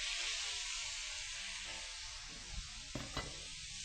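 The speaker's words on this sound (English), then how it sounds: "we're going to take the beef and slide it into the hot pan" Beef slid into a hot oiled pan sizzles steadily, a bright broad hiss that holds throughout, with a few soft knocks and scrapes of the meat near the end.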